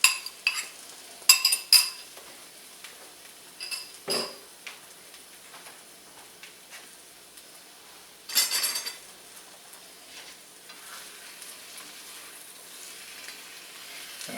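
Kung Pao chicken being stirred with cornstarch sauce in a pan, quiet sizzling under scattered scraping and clinking of a utensil against the cookware, with a few louder scrapes.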